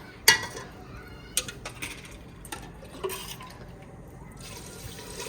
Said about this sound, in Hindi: अभी जो है इसके अंदर पानी, तो माशाल्लाह पानी जो है हमारा ऐड हो रहा है अभी।